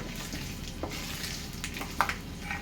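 Cashews fry in a pan of oil for a puffed rice upma, making a quiet, steady sizzle with a few light scrapes and clinks from stirring and no talk.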